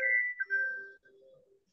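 A phone chime plays through an attendee's loudspeaker during an online spiritual session, a brief run of bright ringing tones that fades to faint lower notes, fairly quiet and alone.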